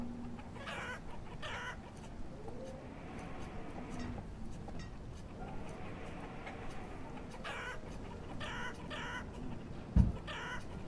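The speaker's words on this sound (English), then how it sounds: "Chickens are loud." Chickens cluck and squawk continuously in the village-building game Banished, a busy overlapping flock heard throughout with a sharp knock near the end.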